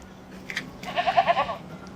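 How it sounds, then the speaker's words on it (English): A goat bleats once in a wavering, nasal call at close range, preceded by a few faint rustles, with no talk over it, set among farm animals in Jamaica. "Goat."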